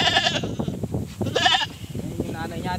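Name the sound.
F3 Boer goat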